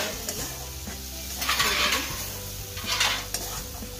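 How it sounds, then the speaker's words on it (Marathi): Chili powder and onion-garlic masala sautéing in a pan, a close sizzle with spoon scraping and stirring strokes and brief louder bursts. "मसाले टाकल्यावर जास्त वेळ नाही परतून घ्यायचं"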